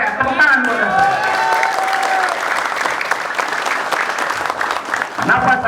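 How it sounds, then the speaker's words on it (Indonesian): A crowd at a religious gathering breaks into loud, sustained applause. Voices carry over the clapping throughout. "Tepuk tangan buat saya"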